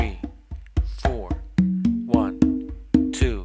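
Congas are played slowly in a funk a caballo fusion pattern: about a dozen sharp, evenly spaced hand strikes mixing dull slaps with ringing pitched open tones, while a voice sounds faintly along with the beat.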